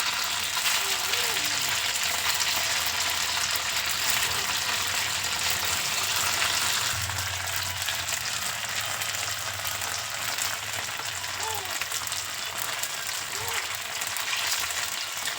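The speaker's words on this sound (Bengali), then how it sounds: "তেলটা গরম হয়ে গেলে একটা একটা করে পনিরগুলো দিয়ে ভেজে নেবো" Paneer pieces frying in hot oil in a wok, a steady bubbling sizzle running continuously at moderate level, with faint background sounds.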